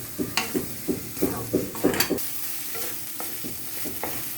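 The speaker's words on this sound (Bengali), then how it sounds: "আচ্ছা, লাস্টে আমি দিচ্ছি ধনে পাতা।" Fish mixture with coriander leaves being stirred in a pan, a spoon scraping in a quick regular rhythm over a low sizzle, close by, then slowing to softer strokes; no speech.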